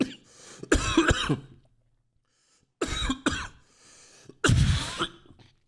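Several harsh coughs in separate bursts with quiet pauses between them, close and fairly loud.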